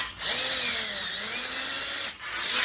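A power drill runs steadily, enlarging a tight bolt hole during a pottery kiln repair, loud and close with a brief dip in speed near the start and again near the end.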